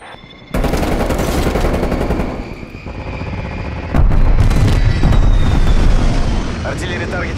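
A loud barrage of incoming artillery in Call of Duty: Black Ops Cold War, booming impacts and rattling fire starting abruptly, easing briefly, then surging again into a sustained, rumbling bombardment.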